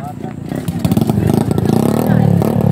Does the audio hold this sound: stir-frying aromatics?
no